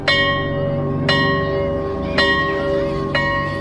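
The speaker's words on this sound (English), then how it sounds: "And a few minutes later the bell went off." A school bell in a suburban school in 1966 rings out loud and close, with four clear metallic strikes about a second apart, each tone hanging on and overlapping the next.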